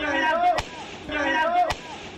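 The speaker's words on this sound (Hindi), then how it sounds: "उसने पिस्तौल को अपनी जांघ पर सटाया और फिर ट्रिगर दबा दी" Two sharp pistol shots, fired as a man shoots himself in the thigh, crack out about a second apart, each a loud, abrupt bang under a continuous talking voice.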